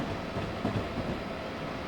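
A passing train in Train Simulator 2019 on the New York to New Haven line produces a steady, dense rolling rumble with faint rhythmic rail clatter, moderately loud and continuous.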